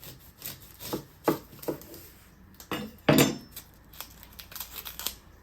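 A kitchen knife slices the end off half an onion on a board while making beef burger filling, giving several crisp, close cutting knocks, with one sharper and louder chop near the middle.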